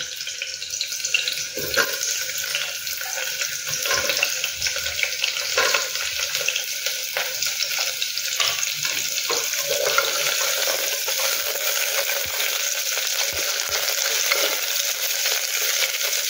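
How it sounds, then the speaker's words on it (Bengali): Onion frying in oil before minced mutton goes in, a steady hissing sizzle that holds at an even level throughout, with occasional faint clicks of stirring, close by and without talk. "একটু ভেজে নেব, বেশি না, অল্প একটু ভেজে নেব।"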